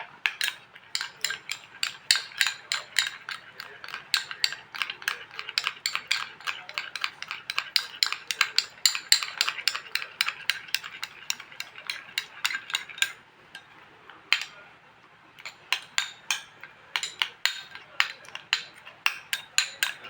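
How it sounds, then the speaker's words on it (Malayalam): Egg yolk face pack being mixed into a paste in a bowl, a steady rapid train of clicking, scraping spoon strokes that pause briefly midway and then resume, close and alone with no talking. "ഇതിനെ നമ്മൾ നന്നായിട്ടൊന്ന് പേസ്റ്റ് പോലെ കുഴയ്ക്കുക"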